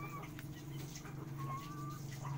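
Laying hens cluck and murmur softly during feeding over a low, steady hum, with a few higher chirping calls from nearby birds.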